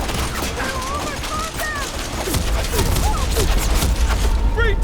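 Gunfire bursts in the Horizon Forbidden West game erupt amid a dense battle mix, sustained and loud, with sharp cracks over rumbling impacts and shouted voices throughout.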